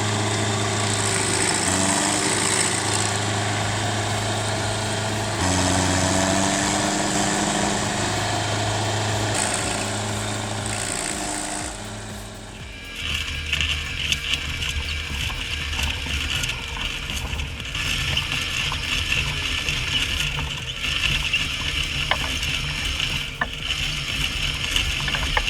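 A machine grinds down a tough maple tree stump in a steady, loud mechanical roar that shifts in tone partway through and runs without pause, with no voices.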